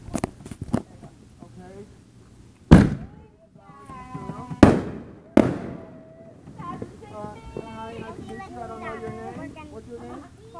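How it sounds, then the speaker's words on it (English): Fourth of July fireworks going off nearby, three sharp loud bangs with crackling tails spread over several seconds, while people talk and cheer throughout. "We're the only ones left setting off fireworks."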